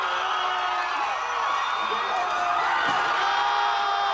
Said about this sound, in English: people are celebrating and cheering and kicking the statue and stomping on the statue